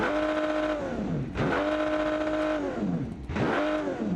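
A low-quality car in BeamNG accelerates hard at a drag strip, its engine rising in pitch through repeated gear shifts, loud and close with brief dips between each climbing rev.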